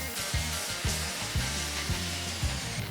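A 2.6 cm metal tube is cut while held in a press, a steady grinding whine running throughout with a regular rhythmic pulsing of the blade through the metal, close and continuous, with no talking.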